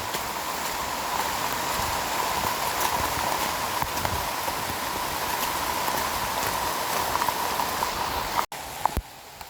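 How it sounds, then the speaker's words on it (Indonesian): Heavy, unbroken rain pours down on a steep mountain trail descending from Puncak Mangu, an even hiss with occasional nearby drips and knocks, briefly cut and quieter near the end. "Jadi kita menerobos hujan."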